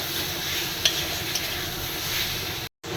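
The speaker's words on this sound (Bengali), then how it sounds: "একটু বেশি পরিমাণে আদা রসুনের আর কাঁচা লঙ্কার পেস্ট। আবার এখানে 5-7 মিনিট মতো কষিয়ে নেব।" Ginger, garlic and green chilli paste sautéing in a pan: a steady, close hiss of sizzling oil with a couple of faint utensil scrapes, then a brief dropout near the end.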